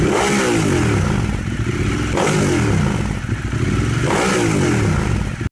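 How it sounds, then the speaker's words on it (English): A Kawasaki Z650 with a 180-degree-crank parallel-twin engine revs loudly and close, rising in repeated sweeps of acceleration, then dropping back between them, with mechanical clatter under the drone and no talking. "The only issue I have with the Z650 is that it makes a bit of a boring sound thanks to that 180 degree crank."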